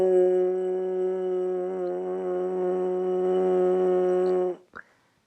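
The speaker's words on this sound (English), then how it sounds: "Just be able to get that buzzing sound out of the mouthpiece." A trombone mouthpiece buzzed by the lips holds one steady, reedy, nasal tone for about four and a half seconds, close and fairly loud, then stops with a short breathy puff.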